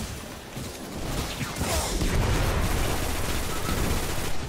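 Enemy gunfire in the video game Destiny on a Venus patrol: a steady, dense stream of rapid shots and bursts that carries on without pause, fairly loud and continuous, with no talking.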